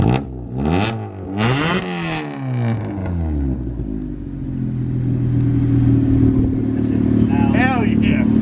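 Revived junkyard Honda CRX engine revving in a few sharp bursts, then settling into a steady, even idle close by, with excited voices talking over it.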